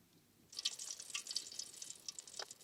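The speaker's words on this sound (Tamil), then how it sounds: "நல்லெண்ணெய் சேர்த்துக்கலாம்" Sesame oil poured into a pan for village-style chicken tandoori: after a quiet half second, a bright, thin trickling stream starts and runs steadily to the end, close but soft, with no speech.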